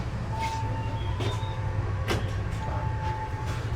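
Train pulling out of Cipendei station in Indonesia, heard from inside the carriage as a steady low rumble with faint clanks and a thin high squeal, at a constant level.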